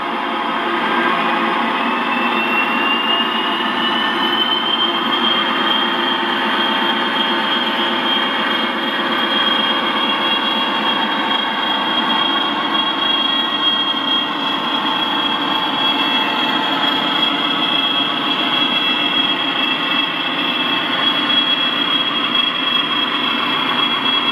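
A modified Märklin Gauge 1 V218 model diesel locomotive rolling along the track toward the listener, a steady rumbling drone with a thin rising whine building gradually, loud and continuous with no talking.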